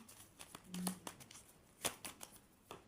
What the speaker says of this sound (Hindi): तो मैं आपके लिए सिर्फ तीन कार्ड्स लूँगी।